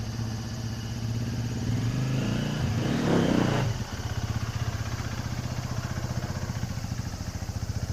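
A KTM dirt bike engine idling and revving during practice laps of full-lock turns, a throbbing mid-pitched engine note that swells briefly in the middle and then settles into a steady pulsing idle, heard from a distance.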